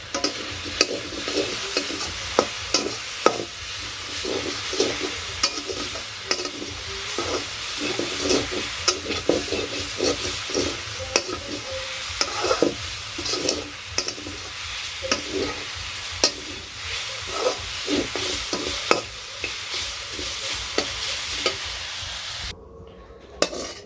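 Leafy greens frying in a pan in a village kitchen, turned over and over: a steady sizzle under repeated scraping and tapping stirs in an uneven rhythm that runs for about twenty seconds before the sound drops away at the end.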